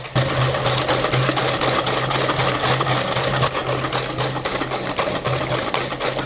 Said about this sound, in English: we whisk these together until the mixture turns from yellow, as you can see at the moment, to a more white colour